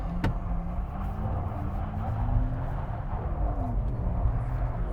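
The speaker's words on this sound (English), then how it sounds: "And then a big drift at the end, and if you get your foot all the way down, all four tyres spinning up" A Porsche Taycan 4S electric car drifting between slalom cones, a low steady rumble of tyres and motion with faint gliding whines rising and falling, heard from inside or nearby at moderate level.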